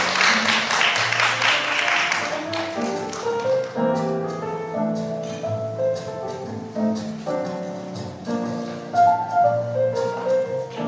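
A hall audience applauds a student contestant at a youth science-talk competition, the clapping fairly loud at first and then thinning into scattered claps beneath steady background music.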